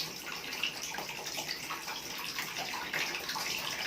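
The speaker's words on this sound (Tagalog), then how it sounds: "Maglalagay na tayo ng downy." Downy fabric softener being poured into a basin of laundry water, a steady soft splashing and trickling stream close by with no talking.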